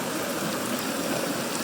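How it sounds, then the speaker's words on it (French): Steady rain falling on a tree house construction site, a dense, even hiss of drops that continues without change for a brief moment. "toujours beaucoup de pluie pour la construction de la cabane"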